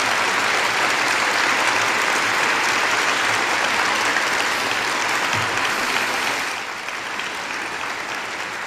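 An audience applauds after a 1986 debate on socialism versus capitalism, with dense, sustained clapping filling the hall that eases somewhat near the end and carries on without talk.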